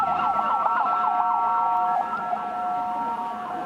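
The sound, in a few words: ambulance siren passing through protest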